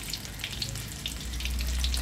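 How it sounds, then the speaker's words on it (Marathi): Surmai fish shallow frying in oil gives a continuous crackling sizzle with scattered pops and a low background rumble, moderately quiet and without speech. "आता ही मच्छी तळून घेऊया."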